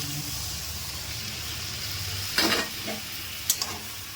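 A pan hisses softly with frying, then fried soybean chunks and boiled mung dal are tipped in, bringing two distinct bursts of louder sizzle and splattering, close by with no speech.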